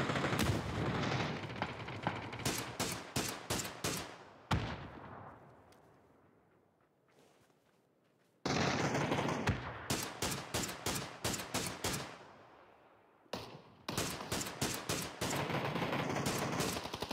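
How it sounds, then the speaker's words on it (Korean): Automatic and rapid gunfire in a squad-mode shooter video game, loud close bursts of repeated shots separated by short quiet gaps, with no voices over it. "예, 쏘고 있어요."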